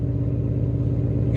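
A car fitted with an aftermarket exhaust idling, a loud, steady, deep rumble with an even low pulse and no voices.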